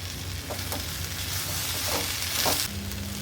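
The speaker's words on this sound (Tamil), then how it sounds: "சுரக்காய் தக்காளி எல்லாமே நல்லா வதங்கிடுச்சுங்க" Bottle gourd and tomato sauté in a pan, a loud continuous sizzle with a few brief stirring scrapes, close and alone without talk.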